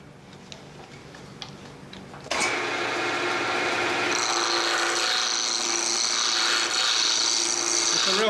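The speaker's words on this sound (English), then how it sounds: "the first thing we're going to start out with is this block of wood in the lathe, just to turn it round and get the rough shape" A wood lathe roughing a block of wood: after quiet low-level sound, a loud sustained rasping, scraping roar starts abruptly as the tool bites into the spinning block and continues steadily close up.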